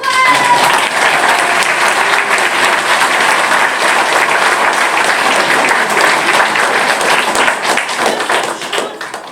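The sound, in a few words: audience applause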